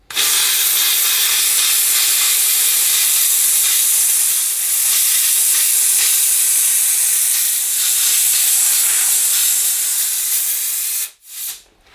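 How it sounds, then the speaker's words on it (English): A loud, continuous hiss of steam blasting from a Dupray Neat steam cleaner for about eleven seconds, broad and steady, then cutting off abruptly near the end. "We should get more steam now."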